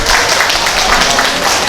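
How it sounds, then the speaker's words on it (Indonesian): Applause from the audience at a community health screening event in Baki district, Sukoharjo, a dense steady wash of clapping that fills the short moment at a fairly loud level. "Tepuk tangan untuk beliau."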